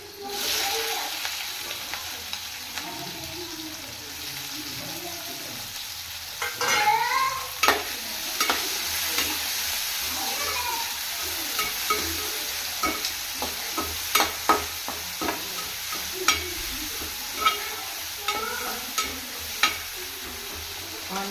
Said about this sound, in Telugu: మిర్చిలు ఆయిల్లో ఫ్రై అయ్యాక సన్నగా కట్ చేసి పెట్టుకున్న ఆనియన్స్